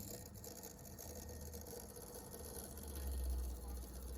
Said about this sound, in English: That is how you make an electromagnetic motor.